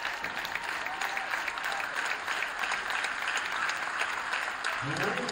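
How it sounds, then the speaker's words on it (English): A school crowd applauds sixth graders on a middle school girls' basketball team, loud sustained clapping filling the gym evenly before briefly thinning at the end. "Big round of applause for 6th graders."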